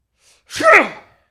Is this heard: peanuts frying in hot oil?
no